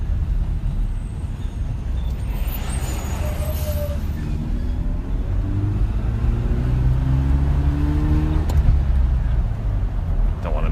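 Single-turbo Mazda RX-7 accelerating and shifting gears, a loud steady drone of engine and road noise from inside the car, with rising tones as revs climb between shifts.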